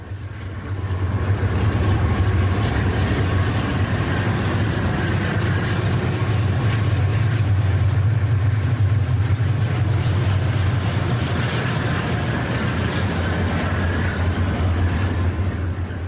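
Conrail freight led by two ex-Santa Fe GE C30-7 locomotives and a C40-8 rolling past near a large bridge, a steady heavy low diesel rumble with wheel noise, sustained and fairly close.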